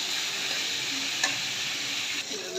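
Sweet pumpkin pieces seasoned with salt and chili fry in hot oil, a steady loud sizzle close by with a faint stir partway through, and no voices.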